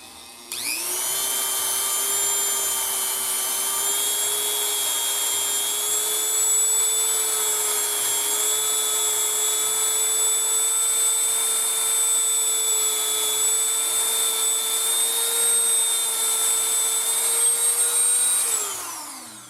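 A high-speed rotary tool whines steadily while polishing the hand of an 1851 Navy single action revolver, holding a sustained, close tone for about eighteen seconds after a sharp start, then spinning down.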